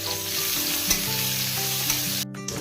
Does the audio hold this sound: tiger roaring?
no